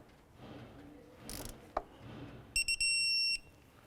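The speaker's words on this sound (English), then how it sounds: "Go ahead and torque this down to 18 foot-pounds." A torque wrench clicking as a spark plug is tightened down on a 2011-2018 Volkswagen Jetta: a short metallic click and faint ratcheting, then a brief electronic beep, close and quiet.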